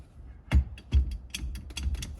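Loosening the steering wheel nut on a Vega, a few sharp metallic clicks and ratcheting bursts from a wrench, spaced irregularly and fairly close.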